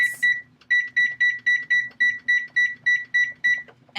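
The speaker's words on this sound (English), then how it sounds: "So I'm going to turn on the timer for" A kitchen timer, set for twenty minutes while potatoes boil for mashing, sounds a long tone and then a steady run of about eleven loud, evenly spaced beeps, close by and with no talk.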